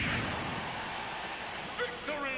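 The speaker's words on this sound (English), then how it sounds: "it's raining outside" Rain falls outside as a steady, soft hiss that runs throughout, and a voice briefly cuts in near the end.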